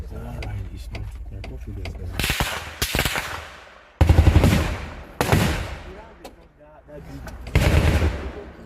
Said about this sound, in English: There is an exchange of fire right now.